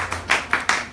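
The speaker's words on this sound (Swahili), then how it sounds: "Tumpigie Bwana makofi makubwa." A church congregation at a Bible study claps, giving a quick run of four or five sharp, close hand claps within about a second.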